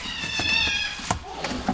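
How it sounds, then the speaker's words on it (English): Pet cats playing indoors in a home kitchen, giving a drawn-out meow followed by a few thumps and soft scuffling sounds, fairly close. "That was just my cats."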